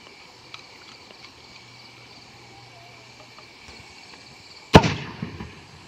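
Quiet outdoor night ambience with faint insects, then a single sharp firecracker burst near the end, set off to chase away elephants, followed by crackling pops fading out.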